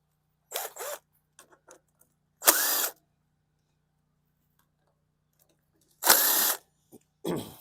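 Power driver fitted with a 7mm socket backing screws out of a 2018 Hyper Tough lawn mower's plastic body, two short whirring bursts with faint clicks between, close and otherwise quiet.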